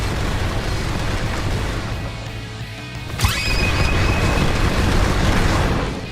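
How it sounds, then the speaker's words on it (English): A video game character's special move, a rapid barrage of hits ending in a fiery shockwave, heard as a dense roaring rumble, then a sharp crack and a loud sustained blast of fire. "Dash in with the crazy barrage and it ends with the fiery shockwave."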